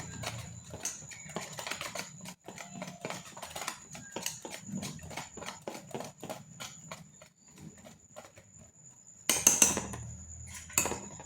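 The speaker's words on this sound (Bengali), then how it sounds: "বেশ কিছুক্ষণ কিন্তু এইভাবে ফেটিয়ে নিতে হবে।" A whisk beats potato chop batter in a bowl, making a quick run of sharp metallic clicks and taps that falls into a brisk rhythm, close and fairly loud, with a harder clatter near the end.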